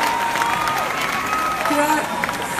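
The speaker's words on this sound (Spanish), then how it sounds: "Les quiero pedir un aplauso para el máster Sergio Silva" A live concert crowd claps and cheers for the guitarist after a call for applause, a broad steady wash of clapping with held instrument tones ringing underneath and faint voices mixed in.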